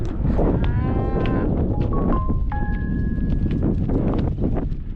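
Several cattle moo in overlapping calls over a steady rumble of wind and hooves as a herd is gathered on the Nevada desert, close and loud, with no talking.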